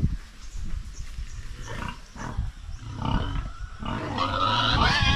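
Farm sow grunting close by, a series of rough, low snorting grunts in bursts that grow louder and more continuous toward the end.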